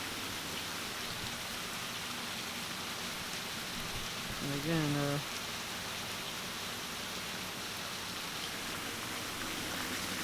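Heavy rain pours down steadily during a severe flood, making a dense, constant hiss. Someone speaks briefly midway through.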